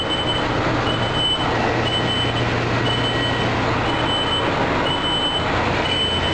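A truck rumbles steadily and loudly in outdoor traffic, with faint repeating reversing beeps above it and no talk.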